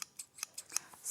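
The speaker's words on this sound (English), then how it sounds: "These, again, are right-handed scissors." Right-handed fabric scissors snip in a sewing studio, giving a string of about six crisp, close, quiet cuts at an irregular pace, heard with no talking.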